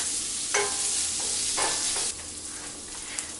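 Pancetta frying in a skillet, a steady close sizzle broken by several scraping stirs of a utensil against the pan.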